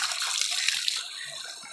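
Water gushes strongly from the pipe of a spring-fed water system, a steady close hiss that eases slightly toward the end.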